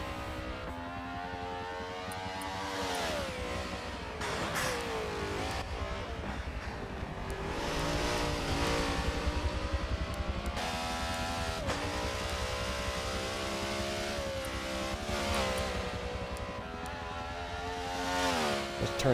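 A BMW race car in a racing game laps Bathurst, its engine loud and continuous, revving up and down repeatedly as gears change through corners, with pitch rising and falling in waves throughout.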